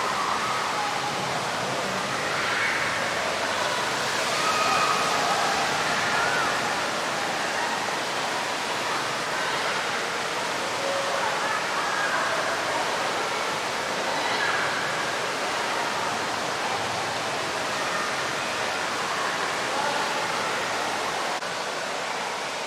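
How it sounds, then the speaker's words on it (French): Steady broadband wash of falling rain and rolling waves fills an indoor wave pool during a simulated storm at Plopsaqua water park in Hannut-Landen, continuous and loud throughout with no clear breaks. "Il y a de l'orage, il y a de la pluie qui tombe, il y a les vagues."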